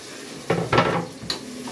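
Tempering spices crackling in hot oil inside a pressure cooker, a few sharp sizzling bursts with pops and faint clinks of a utensil in between.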